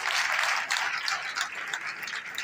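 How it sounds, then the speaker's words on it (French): Audience applause at an award ceremony, a dense wash of many hands clapping together, loud and sustained, with no talk over it. "Ça peut s'applaudir quand même"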